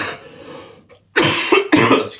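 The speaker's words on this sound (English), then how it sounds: "Excuse me, this cough." A man coughs close to the microphone, a cluster of several harsh, loud coughs following a moment of quiet.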